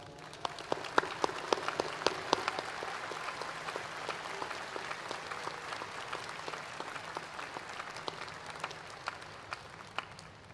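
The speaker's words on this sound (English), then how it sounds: "let's please acknowledge them with a round of applause" Audience at a graduate school commencement applauds standing faculty members, a steady wash of many hands clapping throughout, moderately loud and sustained without speech.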